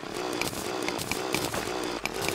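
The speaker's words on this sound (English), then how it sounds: "pearl stone, which is like ebon stone, is incredibly hard, but the drill just shoots like through" A drill cutting through hard pearlstone in the Terraria video game, a steady grinding buzz with rhythmic repeating chips, continuous and close for a couple of seconds without talk.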